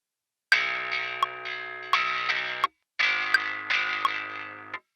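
A high-end bass guitar tone, gritty and distorted through an amp simulator in a shoegaze-style riff, rings out as two long sustained phrases with sharp picked attacks, separated by a brief gap, close and clear with no talking.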